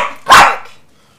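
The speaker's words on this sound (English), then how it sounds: "The boom mic picks up the dogs better than you guys" A dog gives a single loud, close bark that decays quickly into quiet, following a fainter lingering sound at the start, in an indoor workshop.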